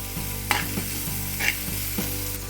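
Crushed garlic frying in a pan, a steady close sizzle broken by regular scraping knocks of a spoon stirring, no voices.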